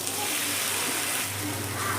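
Tomato paste hits hot frying spices in a pan while cooking an okra and potato curry, giving a steady, close, crackling sizzle that holds throughout.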